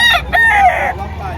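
A rooster crows once at a chicken market in Padre Garcia, Batangas, a loud, close, rising-then-held call with a fowl's clucking quality, over light rain and background murmur.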